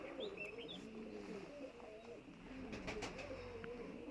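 Mardin pigeons coo in soft, repeated low warbles, fairly close and quiet, with faint chirps and some background voices.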